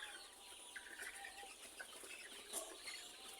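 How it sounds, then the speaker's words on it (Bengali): Chickens cluck and call faintly at a cock chicken farm holding more than 1,200 birds, a busy low-level chorus of fowl at a distance with no talking. "আমরা চলে এসেছি কক ফার্মে। এখানে প্রায় 1200-এর বেশি কক মুরগি আছে।"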